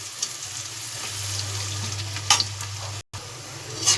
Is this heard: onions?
yes